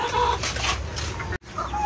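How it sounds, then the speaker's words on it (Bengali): Hens and roosters cluck and murmur inside a poultry shed, a busy close clucking with a brief break in sound partway through. "আগে আমাদের এই সেটআপের মুরগিগুলাকে আপনাদেরকে দেখাই"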